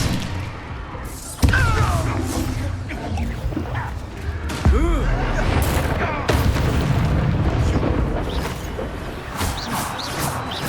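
Spell blasts from the Hogwarts Legacy video game, booming and thudding impacts with crackling bursts and a few swooping whooshes, loud and repeated over several seconds amid game combat sounds.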